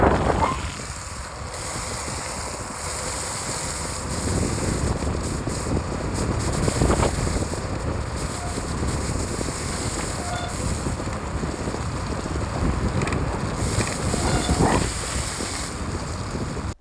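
Loud wind roars over a moving motorcycle ridden in miserable winter rain, a constant rushing buffet close to the microphone, with faint engine drone beneath and no talking.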